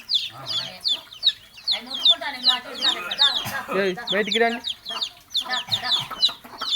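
Several chickens cluck and chirp busily close by, their sharp calls overlapping while a person speaks briefly among them.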